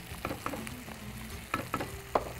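Spices and green chili being stirred into sautéed onion and tomato in a pan, a steady sizzle of frying with a few scraping stir strokes, close and moderately loud, with no talking.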